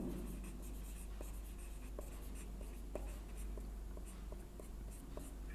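A pen scratches steadily across paper as a math equation is written out, producing soft continuous scratching with small tapping strokes, close up over a low background hum and with no speech.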